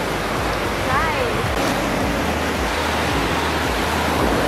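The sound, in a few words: ocean waves on Myrtle Beach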